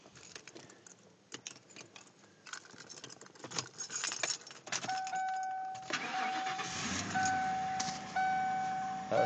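A 1996 Lincoln Town Car Signature Series, not run in a while, is started: keys jangle and click near the ignition, a chime sounds, then the engine cranks and catches into a steady running idle.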